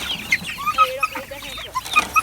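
Chickens cluck and squawk in a farm barn, with a series of short, close, irregular calls over a quiet background.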